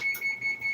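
An oven's preheat alert set to 375 degrees, heard as four short, steady electronic beeps in an even rhythm, close and fairly quiet in a home kitchen.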